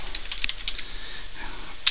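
A computer keyboard being used to enter an ARP command on a Cisco router, with a short run of light key clicks early on, a quieter pause, and one sharper click at the end.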